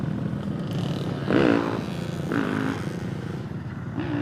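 Dirt bikes ride past on a dirt trail, their engines rising in a few brief revving surges over a steady rumble of a nearby motorcycle and wind.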